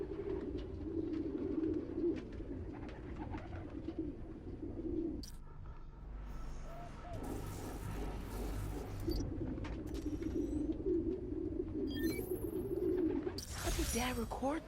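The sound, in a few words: pigeons cooing in a park, Spider-Man Miles Morales video game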